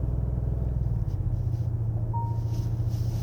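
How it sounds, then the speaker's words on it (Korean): The 3.5 turbo engine of a 2024 Genesis GV80 Coupe rumbles at low RPM under load, a steady, deep, close drone throughout the short stretch, with no voices. "지금 뭐 낮은 RPM에서 이렇게 부하를 올려갈 때에는 고동감의 박력이 상당한데요"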